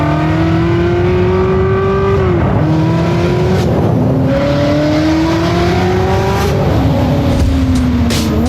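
A Ferrari 360 accelerates hard through several gear changes, the engine note climbing, dropping at each shift, then climbing again, loud and close from inside the car.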